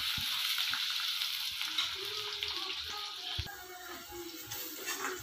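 Onions frying in a pan give off a steady, bright sizzling hiss, with a few soft clinks and stirring scrapes as the sizzle eases slightly toward the end.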